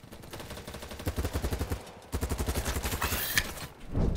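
Rapid automatic gunfire in the shooter game BattleBit Remastered comes in two close, loud bursts of fast regular shots, followed by a sharper crack and a brief rumble.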